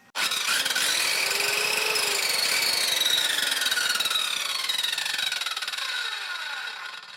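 An Eltos PD-185 circular saw, just repaired in a garage, runs steadily after a quick start, its loud high whine holding for about seven seconds with slowly drifting pitch before starting to wind down.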